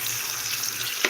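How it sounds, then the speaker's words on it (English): Water runs and splashes steadily over seeds being rinsed for microgreens, a close, continuous wash lasting only about a second. "I'll rinse these, rinse the other set of seeds"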